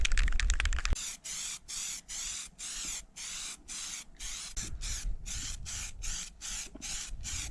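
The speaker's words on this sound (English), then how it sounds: "We're gonna go ahead and do the second coat. Fresh can. Gotta shake it." Spray paint can for a second coat on Honda CRF450R parts, first rattled briefly, then sprayed in a rapid series of short, close hissing bursts separated by brief pauses.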